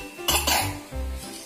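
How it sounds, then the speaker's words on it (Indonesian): A couple of quick, dry coughs close by, followed by a faint clink of dishes in a quiet room. "anda lagi batuk ya?"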